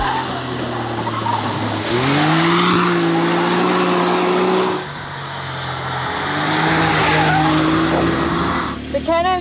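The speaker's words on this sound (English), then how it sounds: "Driving on a tarmac circuit is probably not what it was designed for, but it's on some old rally tyres from Fabio" A Can-Am off-road vehicle on old rally tyres skids around a tarmac circuit, engine droning with rising revs and long tyre squeals in two sweeping slides, with people talking over it.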